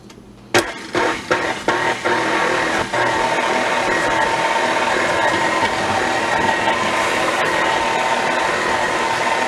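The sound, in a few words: electric mixer mixing sweet potato pound cake batter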